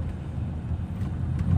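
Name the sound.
Skoda Laura car driving on test drive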